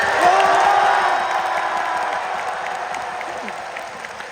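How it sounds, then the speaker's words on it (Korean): A large arena crowd at the League of Legends Worlds 2023 final in Gocheok Sky Dome applauds and cheers for champions T1, a loud sustained roar of clapping with whoops and a voice rising above it. "월드 이거리상 챔피언 티원을 다시 한번 큰 박수로 맞아주시기 바랍니다."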